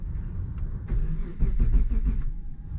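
A Mitsubishi 3000GT engine being cranked over after sitting neglected, the starter churning in a few uneven bursts close by, low and rough without catching.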